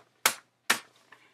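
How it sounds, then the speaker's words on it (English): Two sharp crisp paper snaps or rustles close to the microphone, followed by a faint soft crinkle. "I like making paper noises like this."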